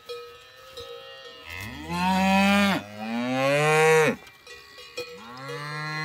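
A cow moos loudly nearby, two long drawn-out calls followed by the start of a third, with faint background noise.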